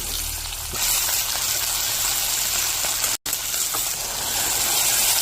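Onions being stir-fried in a pan for a Bengali village-style egg curry make a steady, loud sizzling hiss that runs the whole time without a break, with no voices.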